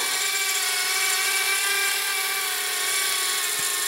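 A Blade Inductrix Switch Air R/C airplane flies with a steady, high-pitched electric motor whine that holds fairly constant and close throughout, with no talking.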